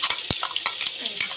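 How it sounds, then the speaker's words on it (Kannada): Tomato frying with ginger garlic paste while a spoon stirs it in a hot pan, a sizzle running throughout with quick, regular scraping strokes and clicks close by. "ನೆಕ್ಸ್ಟು ಟೊಮೆಟೊ, ಇದನ್ನು ಫ್ರೈ ಮಾಡಬೇಕು."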